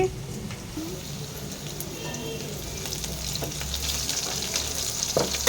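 Onions frying in a pan for chicken fry peach dum biryani, a steady broadband sizzle running throughout at moderate level with occasional stirring scrapes and a faint murmur of background voice.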